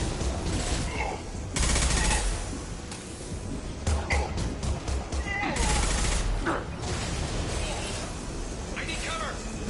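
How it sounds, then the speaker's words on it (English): Dense gunfire from Mass Effect 2 Remastered on PS5, with volleys of automatic shots and sharp cracking bursts, including a heavy impact shot, piling up in loud clusters over constant battle noise. "Firing an impact shot."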